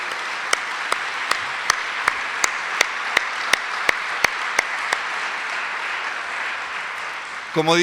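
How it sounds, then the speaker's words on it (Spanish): A single pair of hands claps steadily at an even, moderate pace over a hissing church hall background, then stops before a voice briefly begins at the end. "¿No es digno de un aplauso el Señor?"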